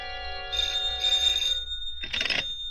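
An old telephone bell rings in two bursts with a pause between them, then a sharper, rattling third ring. Loud and close with no voices.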